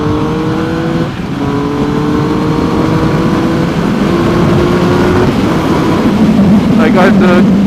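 A Triumph Speed Triple R motorcycle runs at full throttle in race mode, its engine note climbing steadily and loudly through the gears under heavy wind rush, then settling into a steady high drone.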